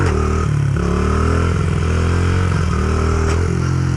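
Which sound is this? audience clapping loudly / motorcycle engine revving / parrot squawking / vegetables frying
motorcycle engine revving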